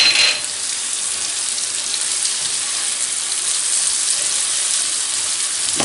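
Paprika is stirred into hot frying oil for mackerel escabeche, making a steady, bright, close sizzle that holds evenly for several seconds with no talking over it.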